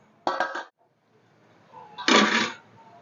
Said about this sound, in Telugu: ఇప్పుడు మూత పెట్టేసి కాగ పెట్టుకుందాం